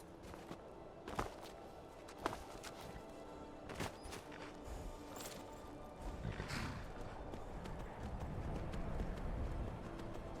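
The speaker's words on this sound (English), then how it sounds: "I should ride my horse up to the door." Horse hooves clopping while riding in the video game Skyrim, a few sharp distinct hoof strikes early on, then a rising rumbling wash of movement and ambience, fairly faint overall.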